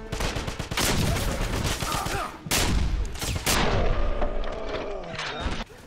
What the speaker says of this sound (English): Without the silencers equipped, the guns sound really meaty, especially the KR-98.